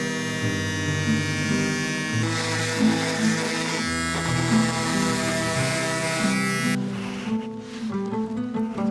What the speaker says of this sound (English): sand this down to have a little bit of a nicer surface to work on later